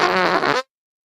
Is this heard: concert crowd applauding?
no